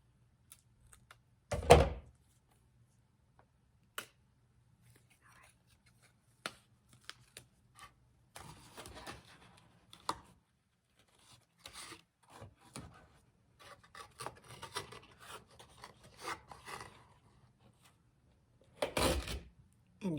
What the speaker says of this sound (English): So I'm going to cut a little bit off.